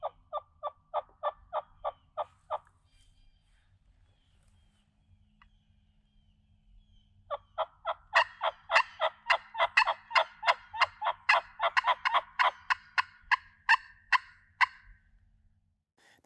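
A hunter works a turkey call, mimicking hen yelps in quick repeated bursts: one short run, a pause, then a longer and busier series, as if two turkeys were calling back and forth. The calls are loud and close in a quiet outdoor setting.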